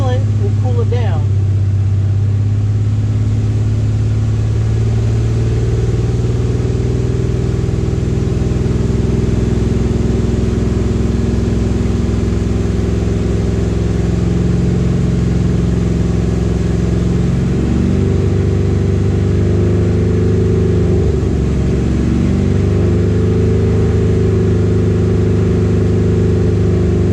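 A car engine revved up to push coolant through the cooling system during a maintenance test: a loud, steady low engine drone holds throughout and shifts in pitch and intensity toward the last third.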